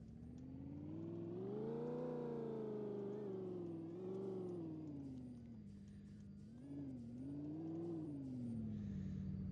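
A Firebird race car being driven onto a trailer, its engine droning steadily and swelling in pitch as it revs up and eases off several times, loud and close with no talk.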